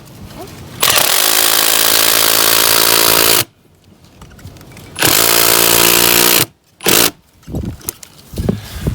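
A DeWalt power drill with a right-angle attachment whirs loudly in two sustained bursts of a few seconds each, separated by quieter handling noises and short clicks.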